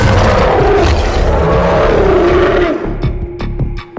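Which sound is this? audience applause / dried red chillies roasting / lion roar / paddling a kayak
lion roar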